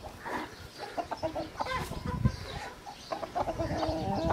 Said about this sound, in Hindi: बाकी ये देखें जी किस तरह मुर्गियों को बुला रहा है ये, कि ये भी मुर्गी नीचे आए